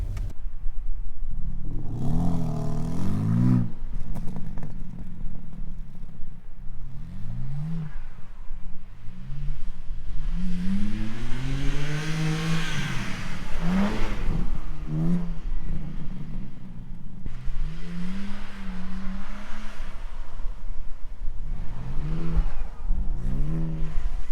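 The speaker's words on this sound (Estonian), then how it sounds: "Teeme ühe lihtsalt väikse tiiru seal Vürdi parklas ja ma lähen välja." A BMW M3 Competition takes a short lap around a parking lot. Its engine note climbs and falls in repeated revving sweeps, loud and close, with no talking.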